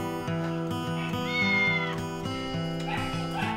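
A cat meows repeatedly in drawn-out, tonal cries, close and fairly loud, with no talking.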